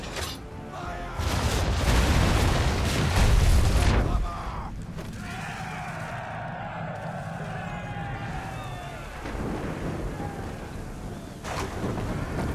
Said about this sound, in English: Don't avoid the mortars!